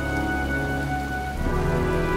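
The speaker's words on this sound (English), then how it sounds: "Well, looks like a storm's coming." Steady heavy rain with a low rumbling undertone of an approaching storm in the video game Heavy Rain, constant and loud throughout with no voices.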